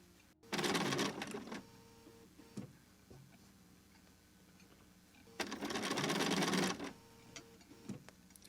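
A sewing machine stitches a curved quilt seam in two short whirring runs of about a second each, close and clear, separated by a quiet pause with light handling clicks.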